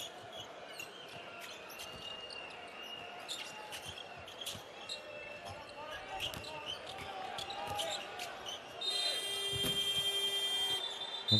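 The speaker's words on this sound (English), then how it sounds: "Well, the buzzer sounds." A basketball game buzzer from Angola versus Tunisia sounds as a sustained electronic tone near the end, over a noisy arena crowd, with ball bounces and a commentator talking earlier.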